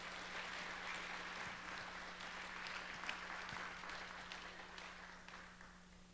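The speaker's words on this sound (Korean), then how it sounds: "다시 한번 크게 박수로 우리 환영해 주시기 바랍니다." Church congregation applauding to welcome a pastor at a Wednesday service, a steady wash of many hands clapping throughout, moderately distant with a low steady hum underneath.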